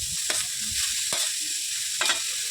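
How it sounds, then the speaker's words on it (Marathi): Grated carrots frying in hot ghee in a kadhai give a steady close sizzle, broken by a few sharp scrapes of a spoon stirring them, with no voices. "गाजर छान 2-3 मिनिटासाठी परतून घेतलेले आहेत."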